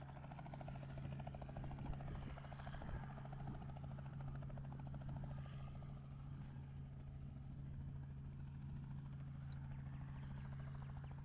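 The steady, throbbing drone of a helicopter with rhythmic rotor chop, continuous and fairly loud overhead at a cemetery in Kalgoorlie, no voices.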